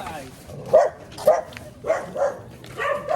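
A dog barks about five times in short, separated bursts, fairly close, with voices talking in the background.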